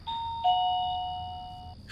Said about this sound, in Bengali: কলিং বেল বেজে উঠল।